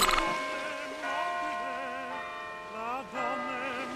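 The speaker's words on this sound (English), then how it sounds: "A clock striking and waves lapping." A clock tower bell rings out in sustained, layered tones, with overlapping strikes blending into a long resonant hum at moderate volume.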